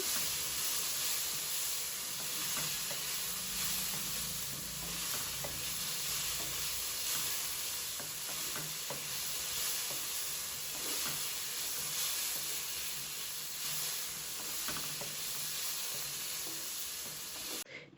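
Tomato and coriander fry in a pan for mutton paya leg soup, giving a steady close sizzle and hiss with the scrape of stirring throughout, and no voices.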